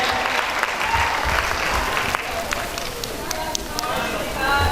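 A crowd at a stage show in Sargodha claps to welcome a performer, a thick, continuous wash of applause with a voice talking over it.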